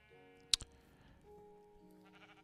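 Minecraft sheep giving a short, sharp bleat in a quiet game scene, one loud burst followed by a softer repeat, with faint game ambience and a light musical tone underneath.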